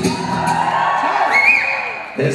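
A crowd at a mariachi gala in Culiacán lets out a Mexican grito: loud, rising whoops and shouts layered over steady crowd noise, with one long cry swelling near the middle.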